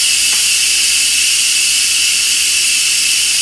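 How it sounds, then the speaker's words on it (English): An Instant Pot pressure valve is flipped open to vent, releasing a loud, continuous high-pitched hiss of steam that stays steady and close throughout, with no voices. "I'm just going to flip my little knob here and let the rest of the steam out."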